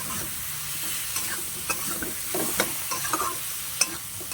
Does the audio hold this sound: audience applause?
no